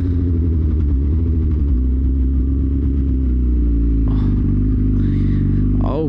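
A Suzuki GSX-R 1000 sportbike runs close by with a deep, steady engine rumble, then revs climb in short bursts near the end while the rider warms up the tire.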